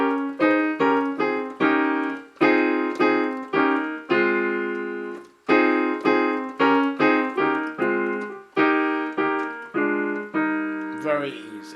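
Solo piano plays a Ghanaian praise melody, a run of clear, close, evenly spaced chords and notes with sustained ringing tones and a few short pauses, no voices.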